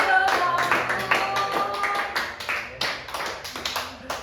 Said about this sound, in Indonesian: Tepuk tangan dong buat tim cewek